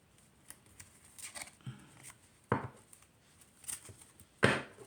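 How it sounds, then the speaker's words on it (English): Oracle card deck being side shuffled on a table, a few soft riffling and patting card bursts with quiet gaps between them, close and fairly faint. "Do a side shuffle for you guys."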